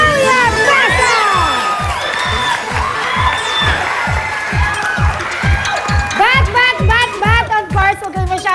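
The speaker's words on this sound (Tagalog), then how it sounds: "huwag kayo masyadong pumalakpak dyan, mga bata" Children in a game show studio cheer, shout and clap in loud, rhythmic unison beats, with excited high-pitched voices whooping over the steady clapping.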